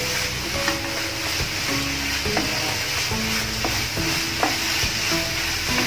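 Melted jaggery filling for modak is stirred in a pan, a steady close sizzle with repeated scraping strokes of a spoon against the metal, continuous and without talk.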